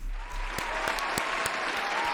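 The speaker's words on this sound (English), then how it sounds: "Do I still have an applause?" A canned applause sound effect plays on a livestream, a short, even wash of crowd clapping at moderate level with no one talking over it.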